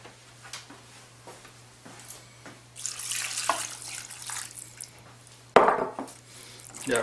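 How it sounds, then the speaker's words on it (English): Tap water runs into a cooking pot of Greek stuffed vegetables with bay leaves at the bottom, a steady splashing stream in a kitchen sink setting that swells midway and ends with a louder burst of clatter. "Okay, let's get some water."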